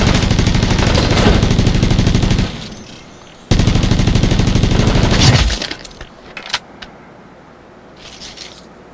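Sustained video-game weapon fire rattles loudly in a dense burst, cuts out, returns just as heavy for a couple of seconds, then trails off into a few scattered distant shots and clinks.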